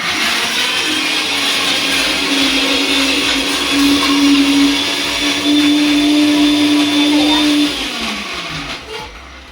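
A mixer grinder grinds ginger garlic paste for biryani in a home kitchen. A loud, steady motor whir holds for several seconds and then winds down, with a voice talking faintly underneath.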